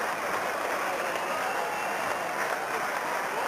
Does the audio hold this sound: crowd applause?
yes